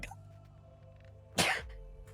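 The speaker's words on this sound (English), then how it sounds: "Yeah, I had a sneeze" A single sharp sneeze bursts out midway through a quiet stretch of an Age of Empires esports match broadcast, loud and close against faint background hum.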